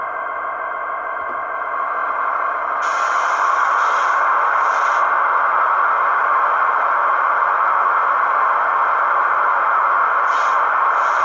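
Radiator fan sound from a Loksound Select decoder in a Kato SD80MAC Norfolk Southern HO scale locomotive: a steady electronic whooshing hum that swells slightly, with faint chirping clicks layered over it, continuous and without voices.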